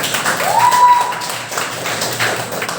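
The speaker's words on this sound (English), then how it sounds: "Let's give a round of applause to the passionate mom." An audience at a Toastmasters communication session gives a round of applause, a steady patter of many hands close by that holds for nearly three seconds, with a brief whistle-like tone near the start.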